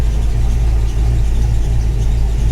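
A 1994 Ford Mustang GT engine with a freshly washed bay idles with a steady belt squeal riding over a loud, even mechanical hum.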